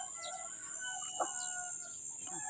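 Farm fowl, turkeys and ducks among rice paddies, give a few faint clucking and gobbling calls over a steady background hiss.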